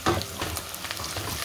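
Steady, dense sizzle of ingredients lightly browning in hot oil in a pan for a lamb paya curry, continuous and fairly close with faint scraping, no voices.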